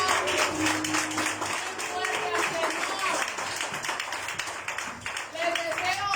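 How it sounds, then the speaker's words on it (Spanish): Church congregation clapping after a prayer, a dense steady patter of many hands filling the room throughout, with music tones and voices mixed underneath. "Dale un aplauso"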